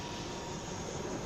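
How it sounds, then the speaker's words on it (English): A twin-propeller plane passes overhead during a cricket match in Nepal near the Himalayas, a steady broad engine drone filling the whole short moment. "Twin propeller planes that fly in and around the Himalayas."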